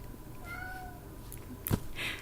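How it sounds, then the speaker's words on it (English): A cat meows for its dinner indoors, a single fairly clear meow rising near the end over a low steady room hum, with no talking. "If you're actually just meowing for dinner,"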